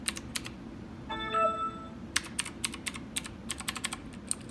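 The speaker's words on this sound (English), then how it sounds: "It's very easy to hit the keys," Typing on a Redragon Kumara LED-lit wired mechanical gaming keyboard, with quick bursts of sharp clicky keystrokes close by in a quiet room and a brief tonal hum between them.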